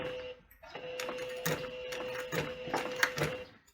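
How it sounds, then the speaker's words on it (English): A sewing machine stitches piping onto a round fabric pouch at slow speed, giving soft rhythmic mechanical clicks and whirring pulses with short pauses between runs, fairly quiet and close. "So find that on your sewing machine and then stick to these points as you sew."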